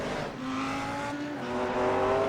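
Race cars lapping the Nürburgring Nordschleife in a sim racing event, engines droning steadily with rising and falling pitch as the cars accelerate, moderately loud with no talk.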